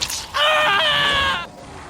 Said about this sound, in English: Sean screams as he is ripped apart